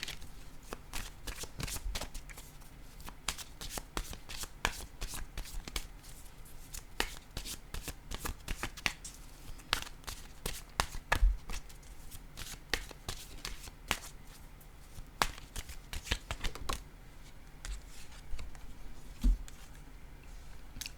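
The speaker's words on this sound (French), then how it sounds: "Je vais piger maintenant une carte, un message de l'univers." Tarot cards shuffled by hand over a long stretch, dense riffling clicks and soft slaps in a steady busy patter, quiet and close, with no voice.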